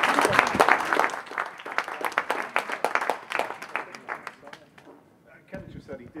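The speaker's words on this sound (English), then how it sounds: "I think people should applaud." A small audience at an in-conversation event breaks into applause, a scattered burst of clapping that thins and fades out after a few seconds while voices carry on underneath.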